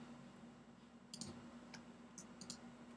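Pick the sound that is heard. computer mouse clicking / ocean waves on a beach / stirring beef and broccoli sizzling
computer mouse clicking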